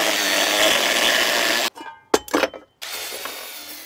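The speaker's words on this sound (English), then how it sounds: "I'll cut the welds in half to see how it looks from the inside." Power tool slicing through steel welds, a loud harsh grinding whine for about a second and a half that cuts out abruptly, followed by brief clinks and rattles, then a quieter hiss.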